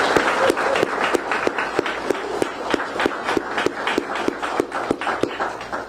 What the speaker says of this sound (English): join me in giving a round of applause to the teachers and educators who are here